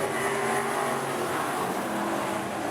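Several AMCA race cars thunder past at Rockhampton Speedway, a loud, sustained blend of engines at full throttle with a gentle sweep as they go by.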